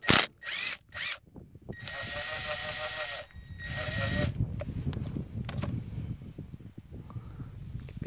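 A 19mm wrench working a track bolt loose on an excavator's crawler track, with metallic clanks and ratcheting bursts followed by steady grinding mechanical noise, close up and fairly loud.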